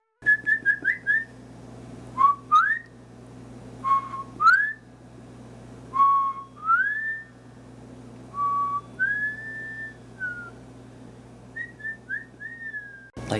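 A person whistles short chirps and rising, sliding notes in separate bursts, imitating bird calls, near and clear over a low steady hum.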